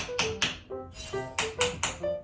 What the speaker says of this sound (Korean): 바닥 좀 때려봐 주시겠어요?